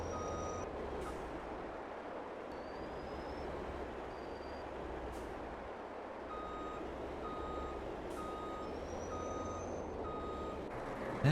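A truck and trailer are maneuvered into place in Farming Simulator 22, with steady reversing beeps repeating over a low continuous engine rumble, no voices.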